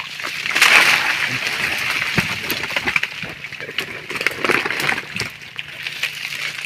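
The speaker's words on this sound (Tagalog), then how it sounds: "Mabilis na yung arangkada ng tubig" Fast water rushes and splashes in a steady, churning wash, loud and close, with uneven sloshing bursts throughout and someone talking faintly underneath.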